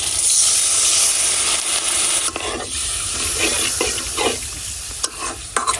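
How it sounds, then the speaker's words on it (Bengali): Ground turmeric, dried chili, coriander and salt with a splash of water sauté loudly in a pan, a steady hissing sizzle broken by scraping stirs near the end. "মশলাটা একটু কষাই নিলাম।"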